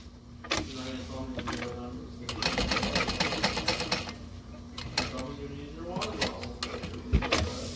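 A sewing machine bastes a Lindsport backpack in several short, rattling bursts with pauses between, close by, with a steady hum underneath.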